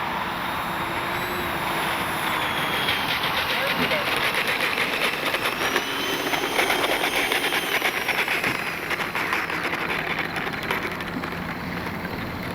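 Small Arrows F-86 64mm electric ducted-fan RC model jet taxiing on the ground, a steady, loud whine that holds for the whole stretch, with a voice speaking over it.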